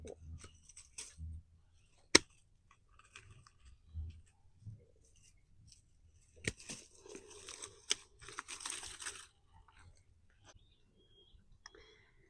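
Garden shears trimming back Kaleidoscope Abelia branches: sparse, crisp snips and clicks arrive one at a time, with a couple of louder cuts and a short rustling flurry of leaves in between, against an otherwise quiet background.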